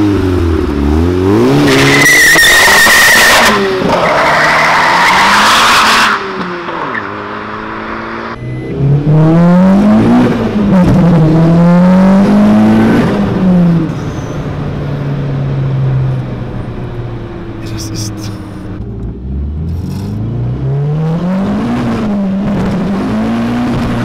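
A tuned 400 hp VW Lupo 1.8T small car driven hard, its loud close engine revving up and down through gears with turbo whistle, tire squeal and skidding, no talk.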